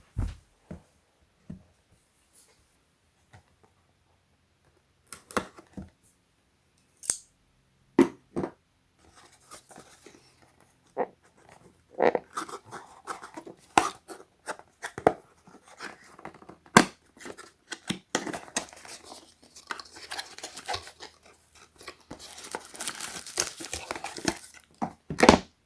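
Scissors cut open the plastic packaging of a car air vent smartphone holder, with sharp irregular snips and clicks at first, then a denser stretch of crinkling, rustling and cutting, all close up with no talking.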